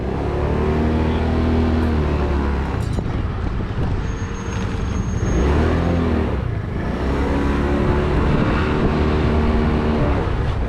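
A vehicle drives slowly through a scrap metal yard piled with wire and aluminum, its engine a steady, close rumble with slight revving swells and no talking.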